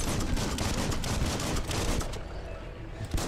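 Rapid video-game gunfire from guns in Biomutant, a dense continuous barrage of shots with occasional louder bursts, close and loud throughout with no talking.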